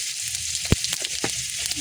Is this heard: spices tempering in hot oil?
yes